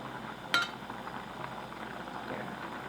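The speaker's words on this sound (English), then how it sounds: "So once it starts to boil, you can see the scum coming up to the top" Broth for a bean paste sauce boiling in a pot, a soft steady bubbling and simmer with one sharp metallic clink of a utensil against the pot near the start.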